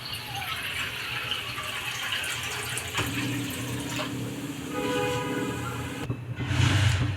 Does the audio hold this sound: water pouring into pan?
yes